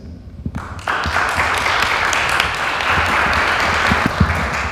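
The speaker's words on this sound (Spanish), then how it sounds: "un fuerte aplauso para Diana con la poesía" Audience applause after a poetry reading at a feminist event, dense clapping that starts abruptly and continues steadily with scattered sharper claps, moderately close and without talk.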